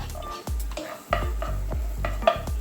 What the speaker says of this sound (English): I've got a little bit of red onion here that we're going to saute in the butter, so that goes in